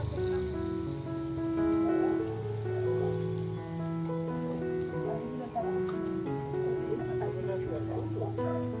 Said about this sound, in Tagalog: Umuulan po kasi